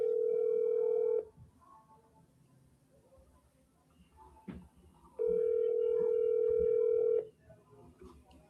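A telephone call being dialed: two long steady tones, each lasting about a second or two, separated by a quiet gap with a brief click, clear and close.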